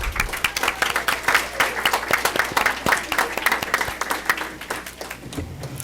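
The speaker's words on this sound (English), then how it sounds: "As they file out, let's give them a round of applause as well." Applause from a school board meeting audience as a group of competitive cheerleaders file out, dense continuous clapping across the whole stretch with some talk faintly underneath.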